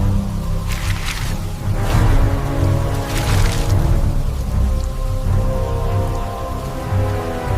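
Steady, slightly muffled rain falls continuously with scattered drops on surfaces and a faint low rumble of distant thunder beneath it.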